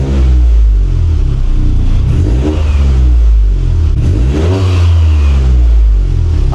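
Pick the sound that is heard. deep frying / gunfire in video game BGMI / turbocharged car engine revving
turbocharged car engine revving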